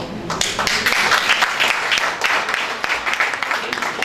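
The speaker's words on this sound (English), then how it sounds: "Thank you for the applause" Audience applause at a healthcare talk, a steady wash of many hands clapping, fairly loud and continuous throughout, with a few voices mixed in.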